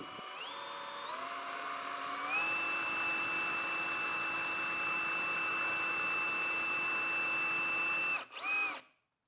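A power drill runs steadily trimming wooden tenons for rustic furniture, its whine stepping up in pitch twice before holding a continuous high tone for several seconds, then cutting off abruptly near the end.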